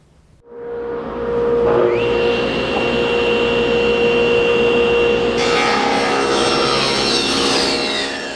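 SawStop table saw ripping narrow wood stock: the motor spins up within the first second, then a steady loud whine and cutting roar holds to the end, shifting brighter as the blade bites further into the board, with no talk.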